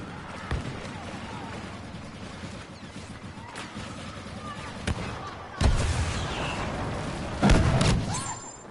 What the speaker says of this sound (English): I'm just gonna go in with a rocket launcher